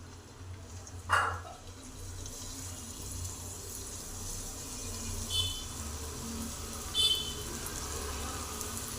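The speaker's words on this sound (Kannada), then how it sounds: "ಇವಾಗ ಎಣ್ಣೆಯಲ್ಲಿ ಕರಿತೀನಿ." Karjikai, stuffed festival dumplings, frying in hot oil on a stove: a continuous soft hiss and bubbling, broken by two or three brief louder spits.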